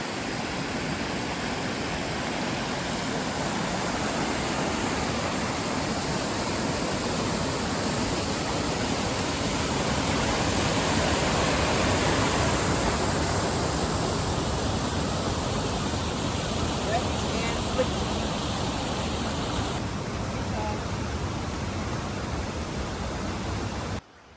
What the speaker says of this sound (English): this is a cascade up at the top